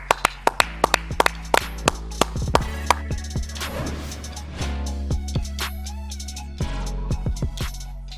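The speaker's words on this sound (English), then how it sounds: "Clap it up. Clap it up." Sharp hand claps ring out close and loud in a podcast studio, first a quick burst of spaced claps, then a busier stretch of claps over music, then more scattered claps near the end.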